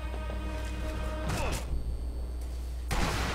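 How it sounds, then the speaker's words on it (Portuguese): Gunfire in the video game Sniper Elite V2, with sharp shot and impact bursts around a sustained low rumble of game ambience, loud and close, with no talking. "tô tentando ver de onde vem os tiros"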